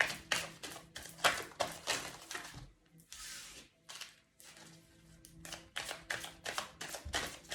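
Tarot cards are shuffled by hand in a quick series of crisp riffling bursts and soft slaps. They sound close and fairly quiet, with a short pause midway and no talking.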